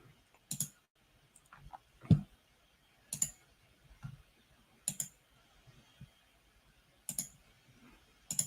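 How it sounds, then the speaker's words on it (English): Sparse clicks and taps from someone typing on a computer keyboard, arriving in short irregular bursts with quiet gaps between them, close and fairly soft. "I'm typing some stuff up."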